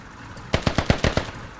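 A 30mm cannon in a video game fires a quick, evenly spaced burst of about six heavy, booming rounds. The burst is loud and close, with quiet before and after.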